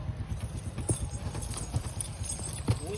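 Hooves of a black mare clip-clop in an even walking rhythm, each step a distinct knock, heard at close range on a village path in Gujarat at dusk.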